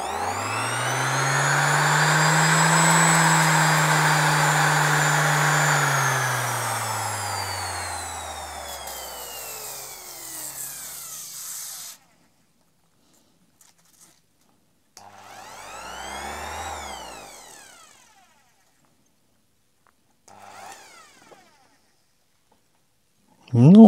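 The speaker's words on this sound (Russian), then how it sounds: "Ну, обычная, хорошая, домашняя шлифмашиночка. Сетевая." A Bojet corded electric sander with speed control whines up and runs steadily for about ten seconds, then winds down with a falling pitch, followed later by a shorter second spin-up and spin-down.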